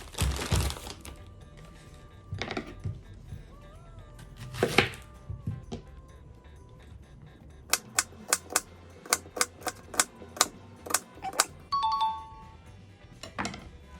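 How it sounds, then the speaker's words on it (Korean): A knife thinly slices onion on a board: quiet, irregular handling sounds at first, then a run of crisp, evenly spaced cuts, with a faint chime-like tone toward the end. "양파를 이렇게 얇게 썰어줍니다"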